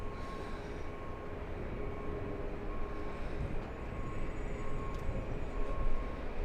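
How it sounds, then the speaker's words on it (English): A Lufthansa airliner passing at LAX makes a steady broad jet roar that builds slightly toward the end, heard from a distance outdoors with no talking. "There goes Lufthansa."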